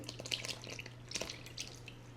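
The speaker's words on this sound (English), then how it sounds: "I'm going to pour in the buttermilk and egg mixture." Buttermilk and egg mixture is poured into a mixing bowl of bread ingredients, giving faint, intermittent liquid splashes and drips in a quiet kitchen.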